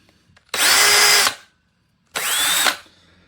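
A power drill fitted with a half-inch brad point wood drill bit on a hex shank runs freely in two loud whining bursts, each about a second long, with a short pause between them.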